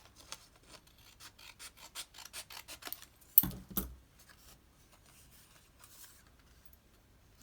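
Scissors cut paper decoration for an old ledger craft, a quick, even run of close crisp snips followed by a couple of heavier rustles and then quiet.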